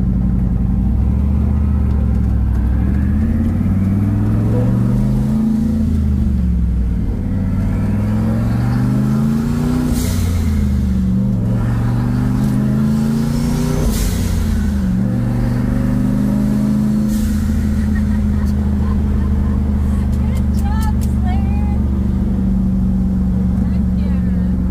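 A 1969 Camaro with a turbocharged LS engine and six-speed manual pulls hard through the gears, its loud rising engine note climbing repeatedly and dropping at each shift, with people talking over it.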